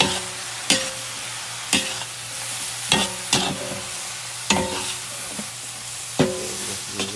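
Leafy vegetables stir-frying in a hot pan for Indonesian fried noodles (mie goreng), a steady sizzle broken by about eight sharp clanks and scrapes of the spatula stirring, close and fairly loud, with no talking.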